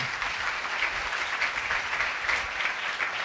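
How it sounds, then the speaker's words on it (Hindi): A church congregation applauds loudly and steadily, a dense, even wash of many hands clapping together that holds for several seconds with no talk over it. "आओ ऐसे खुदा के लिए जोरदार तालियां बजाओ"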